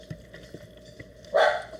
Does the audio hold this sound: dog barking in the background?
yes